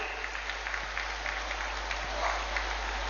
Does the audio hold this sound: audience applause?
yes